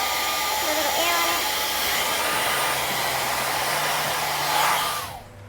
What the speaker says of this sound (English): so I'm stretched with the blow dryer